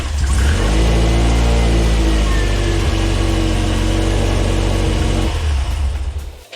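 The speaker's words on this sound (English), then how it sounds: "So now I have somebody inside the vehicle who's gonna turn the car on." A car engine cranks briefly and then catches, settling into a loud, steady running hum that fades slightly at the end. The car is being started while its battery is load-tested, and there is no talking.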